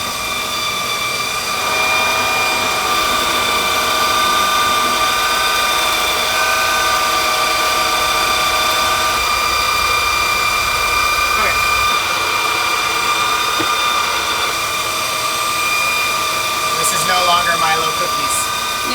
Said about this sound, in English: that's that whine going on. Electric motor, belt, shaft